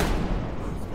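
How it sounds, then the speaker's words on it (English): A tank fires in the Hell Let Loose video game during a US Army assault on German positions: a heavy, booming blast with rumbling echo fills the short moment, loud and close. "Tank shooting on us"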